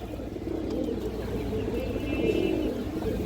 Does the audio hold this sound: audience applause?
no